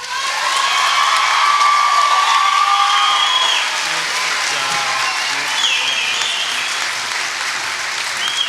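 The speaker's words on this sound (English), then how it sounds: "please, give the class of 2018 a big round of applause." Loud, sustained applause from a large audience at a high school graduation ceremony, a dense wash of clapping with a few faint whoops, easing slightly toward the end.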